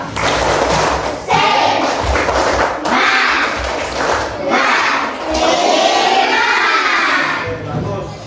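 Schoolchildren in a classroom perform a rhythmic clapping chant to build classroom spirit, loud group claps and shouted syllables repeating in regular bursts close by.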